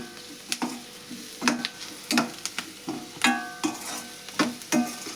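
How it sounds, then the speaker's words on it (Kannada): Masala chili powder sizzling and frying in hot oil in a pan for a chowli kayi palya, with a steady crackle broken by repeated stirring scrapes at an irregular rhythm. "ಇದನ್ನೆಲ್ಲ ನಾನು ಎಣ್ಣೆ ಒಳಗೆ ಫ್ರೈ ಮಾಡ್ಕೊತೀನಿ ನೋಡ್ರಿ."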